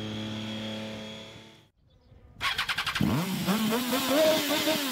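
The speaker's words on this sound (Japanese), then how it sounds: "重さ200キロ近い大型バイクを自由自在に操ります" A large motorcycle of nearly 200 kg at a stunt riding show drones, cuts out briefly, then sputters back and revs up loudly with rising, throaty pitch sweeps.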